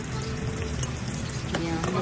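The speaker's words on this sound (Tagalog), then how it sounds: "Pag may egg talaga, nagbubula-bula yung mantig" Eggplant omelette (tortang talong) pieces frying in hot, bubbling cooking oil, giving a steady close sizzle that crackles on without a break and with no talk over it.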